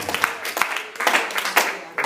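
A church congregation gives the Lord a final offering of applause, dense overlapping handclaps up close, steady and lively for the whole short stretch with a voice mixed in.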